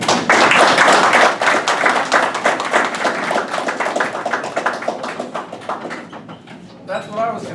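A crowd at a political rally for a congressional candidate applauds, a dense burst of clapping that starts loud and thins out over several seconds, with voices talking over it.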